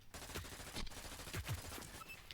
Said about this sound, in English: Our next gun is the Harpy. This is a SMG.